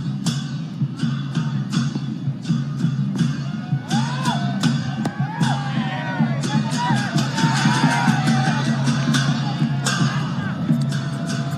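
Stadium crowd at a T20 cricket match backing the Nepal team, a steady roar with whoops and shouts rising and falling over about twelve seconds, with sharp claps and bangs scattered throughout.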